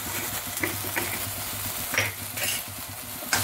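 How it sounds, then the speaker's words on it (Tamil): Gravy being stirred and fried in a pan after salt, chili powder and a little turmeric go in: a steady sizzle with repeated scraping and clinking of a spoon against the pan, close and fairly loud, with no talking. "சேர்த்த உடனே நல்லா மிக்ஸ் பண்ணி"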